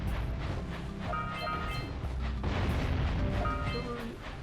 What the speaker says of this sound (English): I know we can get up there and use the cannon.